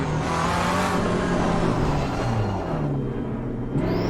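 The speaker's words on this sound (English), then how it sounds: "I can hear the other car, but I can't see it in my mirror." Race car engine in the video game Assetto Corsa Competizione, a loud sustained motor drone with shifting pitch as the car rolls along, steady throughout with no talking.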